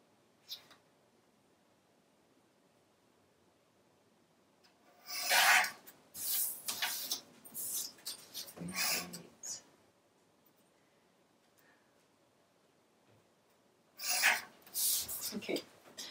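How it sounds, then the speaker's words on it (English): A paper trimmer cutting a one-inch paper strip, close raspy sliding strokes in a few separate bursts with quiet gaps between, no talk over them. "So I'm just going to trim another piece."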